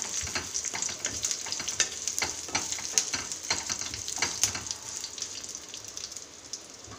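Beans and curry leaves sautéing in a pan, a close, crackly sizzle with dense popping and spatter that stays steady throughout, slightly easing toward the end, with no voices.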